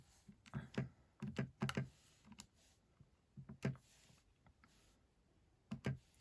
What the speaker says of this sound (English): And again, typing it into your calculator.